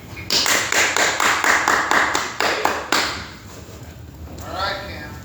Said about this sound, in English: give a round of applause for Cam this afternoon